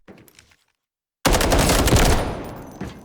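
Rapid automatic gunfire bursts from a weapon in the Delta Force video game, a loud sustained volley after a brief quiet gap, tailing off slightly toward the end.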